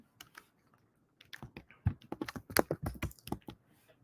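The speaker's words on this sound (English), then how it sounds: "type that in." Quick keystrokes clatter on a computer keyboard, a soft burst of uneven taps that starts sparse and then runs in a dense cluster before trailing off, close and quiet with no talk.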